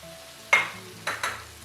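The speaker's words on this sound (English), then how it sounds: "Then I stir it together with the beef." Okra being stirred into beef stew in a pot: a few short, close scraping and sizzling strokes, with a quiet pause between the first stroke and the last two.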